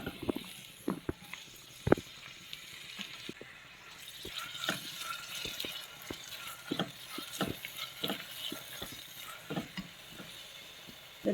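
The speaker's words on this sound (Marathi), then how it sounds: "शिमला मिरची फ्राय करून घेऊ।" Chopped capsicum frying in butter and oil over a high gas flame: a steady soft sizzle under repeated sharp clicks and scrapes of a spoon stirring the pan.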